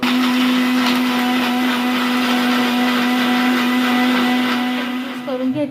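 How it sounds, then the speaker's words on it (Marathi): A mixer grinder runs steadily and loudly with a strong motor hum, blending yogurt into spiced buttermilk continuously before slowing and winding down at the end. "आता हे मिक्सरला आपल्याला बारीक लावून घ्यायचं"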